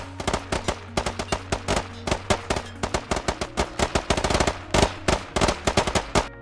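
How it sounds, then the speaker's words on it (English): Rapid bursts of automatic gunfire in the video game Squad, with sharp, repeated shots in quick rhythmic volleys, loud and close, with no voices. "The whole intent is to ensure there's no lull in the gunfire"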